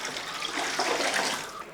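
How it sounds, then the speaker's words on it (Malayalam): Water poured into a basin of chopped taro stems, a steady splashing gush that swells slightly in the middle, close and unbroken, with no speech. "കുറച്ച് വെള്ളം കൂടെ ഒഴിച്ചു വെക്കും, അല്ലെങ്കിൽ ഇത് കറുത്ത് പോകും."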